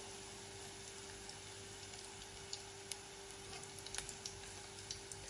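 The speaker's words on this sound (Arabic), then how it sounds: "بس اخذ البصل هيدا اللون هلا" Onions fry quietly in oil in a pan, a faint, steady sizzle with scattered small pops and crackles, no talking.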